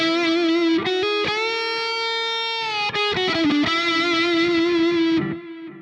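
An electric guitar played on the neck pickup through an ML Sound Lab Amped ML5 liquid lead preset rings out as a smooth, sustained distorted lead line of held and bent notes, loud and close, fading out at the end.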